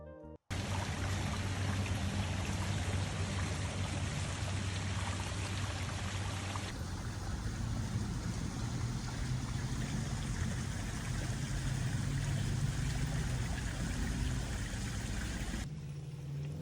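A waterfall roars in a constant, dense rush of water that stays loud and unbroken throughout.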